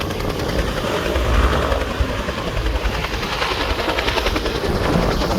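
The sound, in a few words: strong wind blowing outside during wildfires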